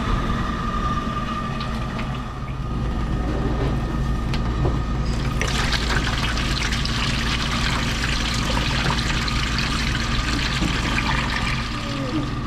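Water rushes and trickles steadily through a Hoshizaki ice maker as it is flushed with fresh water during deep cleaning, a continuous loud flow over mechanical hum.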